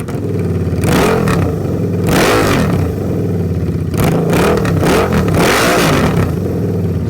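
A sport bike's engine revs hard in loud, close bursts that rise and fall with a rough mechanical clatter, twice over, with no voices.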